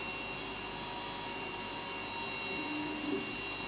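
A WeCreat Vision 20W laser engraver runs with its booster fan switched off while engraving a wooden cutting board, giving a steady, close mechanical whir with faint tonal hum and a slight rise near the end, with no talking.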